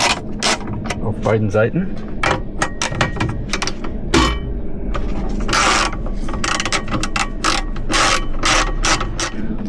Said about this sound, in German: So, jetzt werden die vorderen Schrauben abgeschraubt hier.